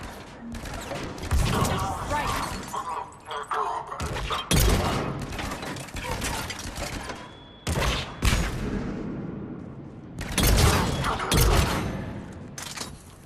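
Bursts of gunfire from a Mass Effect 3 firefight, loud and repeated, with heavy impacts and thuds across the stretch. A short voice line sounds in the mix.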